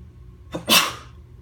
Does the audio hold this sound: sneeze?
yes